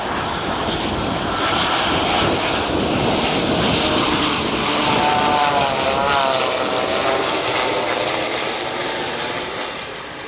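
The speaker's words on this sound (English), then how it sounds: "Here's another example of a 787 coming in at a Boeing test facility. And listen as it flies by." Boeing 787 airliner flying past at a Boeing test facility, a loud, steady engine roar with a gliding whine that swells toward the middle and then slowly fades.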